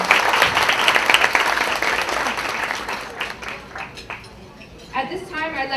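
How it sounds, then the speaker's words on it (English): A conference audience at an awards event applauds loudly for several seconds, the clapping thinning and fading as a voice begins speaking near the end. "let's still give her a round of applause."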